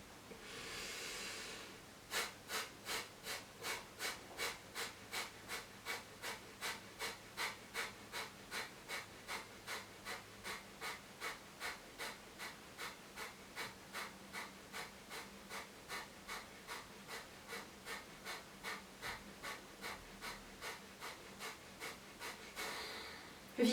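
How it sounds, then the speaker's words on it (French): Slow deep yoga breathing, a long steady series of rhythmic breaths repeating about every half second to second, each a soft airy whoosh, close and quiet, with no talking. "On prend une grande inspiration."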